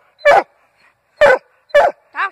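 A hunting dog barks at a treed raccoon: three loud, sharp barks spaced about a second apart, then a higher yelping whine, all close and with no voices.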